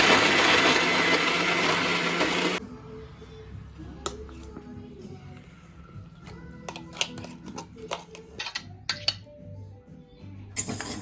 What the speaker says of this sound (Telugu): ఆవాలు, ధనియాలు రెండు కూడా దోరగా వేయించి మిక్సీ అయితే పట్టేసుకోవాలండి